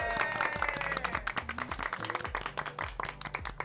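Welcome applause for a drag performer named Chío on a drag competition show, quick clapping mixed with tonal, music-like sounds, moderately loud and continuous.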